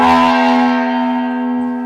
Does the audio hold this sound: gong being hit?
yes